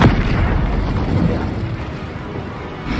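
Booming spell explosions from the Hogwarts Legacy video game, a loud rumbling blast that rolls on and slowly fades over a few seconds, with no voices.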